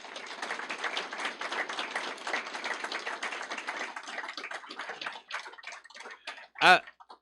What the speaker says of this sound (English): So I want you to give them a round of applause,